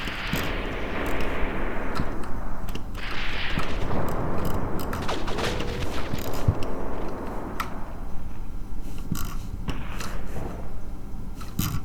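Battlefield gunfire in the World War II tactics game Graviteam Tactics: Mius Front: steady distant rifle and machine-gun shots crackling over a dense rumbling combat din, with occasional sharper nearby reports.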